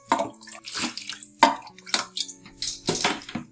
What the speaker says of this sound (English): And then we make sure you scoop all the water out.